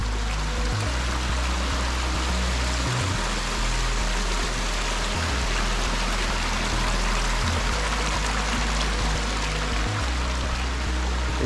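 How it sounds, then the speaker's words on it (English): A tiny waterfall beside a forest hiking trail gives a steady, broadband rushing splash with no pauses. A low rumble pulses beneath it, and no one is talking. "Just a little tiny waterfall"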